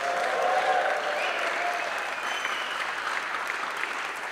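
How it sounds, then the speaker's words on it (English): Live audience applause at MixCon, a mixing convention podcast recording, a steady wash of clapping from a crowd that holds evenly for several seconds. "Can you guys give us a round of applause to show we're live here at MixCon?"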